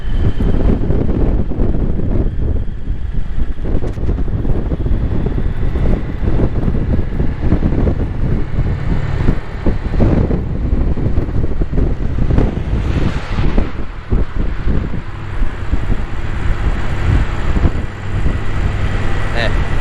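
Steady wind buffets the microphone in a continuous low roar at a nature observatory in Marcelim, near the chapel of São Pedro do Campo, with a faint hum of a car engine being revved underneath throughout.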